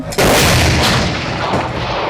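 A 2S7 Pion 203 mm self-propelled gun fires a single shot, a sudden massive blast with a long rumbling roar that slowly decays.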